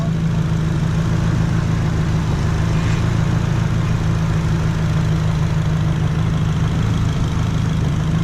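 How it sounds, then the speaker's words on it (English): A car engine idles steadily with a low, even rumble and constant hum, no revving, running smoothly throughout. "We're gonna check this out while it's idling."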